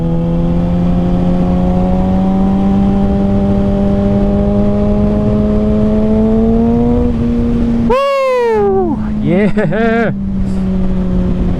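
A 2021 Kawasaki Ninja ZX6R fitted with an M4 Street Slayer exhaust, ridden on a twisty road in the cold, holds a loud steady engine note with rising pitch. A sharp rev burst and quick shifts follow, and a rider briefly shouts over it.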